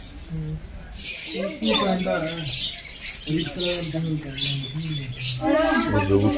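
Birds chirping in cold winter weather in Darjeeling, a series of bright, repeated tweets and calls, close and clear, with people talking over them.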